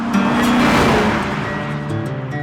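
C4 Corvette ZR-1 with its British-designed V8 driving by, a loud, continuous engine drone with shifting harmonic tones, close and steady.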